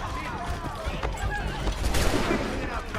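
Gunfire in Assassin's Creed 3: a few muffled shots ring out amid a noisy crowd scene, with shouting voices and commotion mixed over them.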